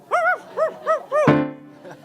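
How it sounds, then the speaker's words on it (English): A dog gives four short, rising-and-falling yipping barks in quick succession, followed by a sustained tonal sound and then a quieter tail. "the dog was barking in agreement"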